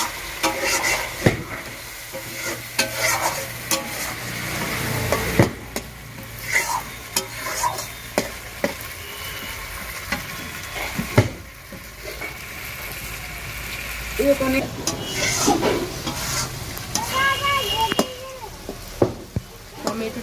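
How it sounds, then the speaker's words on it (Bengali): Spice paste sizzling and being stirred in a pan over a wood-fired stove after a splash of water, with close scraping strokes over a steady frying hiss. "একটু জল দিয়ে দিচ্ছি কাঠের উনুনে হচ্ছে তো জলটা খুব তাড়াতাড়ি শুকিয়ে যাচ্ছে"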